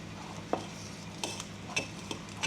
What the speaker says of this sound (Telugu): కస్టర్డ్ కలిపిన పాలు వేయాలండి. ఇది వేసేసుకొని మంచిగా ఉండలు కట్టకుండా మిక్స్ చేసుకోవాలి.